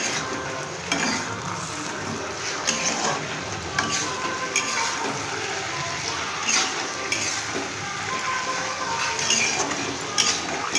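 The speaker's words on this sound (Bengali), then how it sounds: "মাংসটা দিয়ে এবার আমি ভালো করে কষাবো পেঁয়াজটার সাথে।" Chicken and onions stirred in a pan give a continuous frying sizzle with scraping and clinks of a spoon against the pan at irregular intervals, close and fairly loud, no talking.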